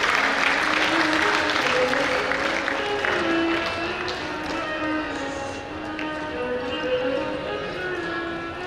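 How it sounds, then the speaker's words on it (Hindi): An audience at a religious padyatra gathering claps to welcome a guest on stage, producing dense, sustained applause that stays loud throughout, with a steady tonal hum running underneath. "तो तालियां बजना चाहिए।"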